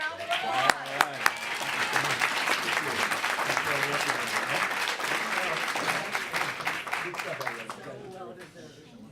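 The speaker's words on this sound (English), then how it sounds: "Another round of applause." Applause at a Humane Society press event, a dense round of clapping sustained for several seconds and tapering near the end, with some voices talking underneath.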